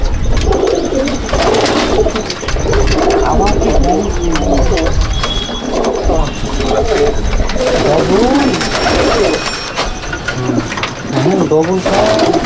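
A pair of blue checker pigeons coo repeatedly in a loft in Jangipur, Murshidabad, their soft throaty calls overlapping near the listener while someone speaks over them.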